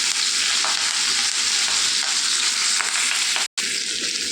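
Ponnaganti leaves dropped into hot oil in a pan sizzle and fry steadily, a close continuous crackle with a few stirring scrapes and a brief cut near the end.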